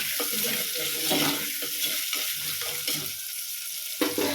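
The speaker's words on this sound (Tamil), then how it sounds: "வெங்காயம் வதங்குறதுக்கு கொஞ்சம் நம்ம உப்பு சேர்த்துக்கலாம்." Onions sauté with salt in a pan, making a dense, close hiss of frying. Uneven stirring scrapes run through it, with a sharper clatter near the end and no voices.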